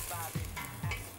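Meat sears in a hot pan before braising, giving a close, continuous sizzle with two quick stirring scrapes, and no voices over it.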